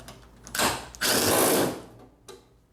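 Bolts being removed from the core support of a 1995 Chevy OBS truck, with a few short mechanical whirring and ratcheting bursts, the middle one longest, close by.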